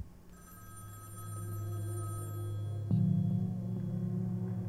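A telephone rings in the Sally Face video game, a steady electronic bell pattern with bright ringing partials that grows louder and shifts pitch partway through, alone with no talk.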